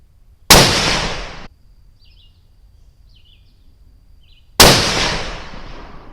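Two loud .308 rifle shots firing Hornady Superperformance 150 grain SST ammunition at a 100-yard range, each a sharp crack with a ringing decay, about four seconds apart with quiet between.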